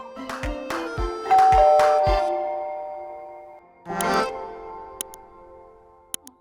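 A series of bright chime tones rings out, a descending multi-note doorbell melody, followed by a single clanging chime and a couple of faint clicks.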